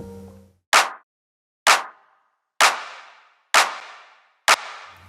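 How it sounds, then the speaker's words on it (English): Reverb plugin in Ableton Live applied to five sharp percussive hits, evenly spaced about a second apart, each trailing off in a short decaying wash of reverb tail. "The first plugin we have here is a reverb. It sounds like this."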